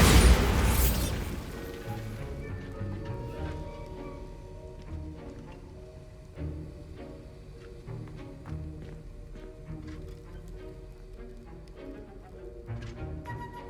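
A Bombarda blasting spell goes off in Hogwarts Legacy, a loud booming burst at the very start that quickly fades into ambient game music and scattered small effects.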